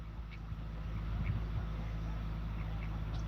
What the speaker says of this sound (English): Oh, the duckies are swimming towards us.